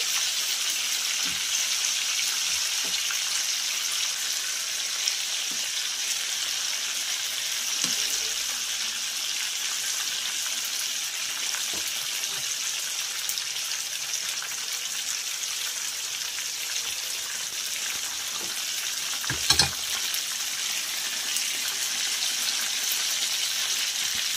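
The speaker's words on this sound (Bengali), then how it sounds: "সব মাংসগুলো আমি ভালো করে ভেজে নিচ্ছি।" Chicken wings frying in hot oil, a steady dense sizzle that holds for the whole stretch, with occasional soft knocks and one sharper pop near the end and no voices.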